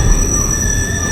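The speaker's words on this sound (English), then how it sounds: "The train screeched onto the next open station." Subway train braking into a New York City station, a loud sustained metallic screech of wheels on rails with high steady squealing tones over a rumbling low roar.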